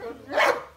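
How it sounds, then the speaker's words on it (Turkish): A single deep bark from a Kangal dog, close and loud, lasting under a second. "Oğlum onlar akırda kangalı. Onları çıkarmıyorum da bağırıyorlar."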